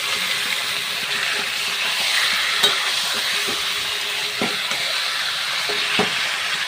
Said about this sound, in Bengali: আর এবার আমি ম্যারিনেট করে রাখা মাংসটা দিয়ে দেবো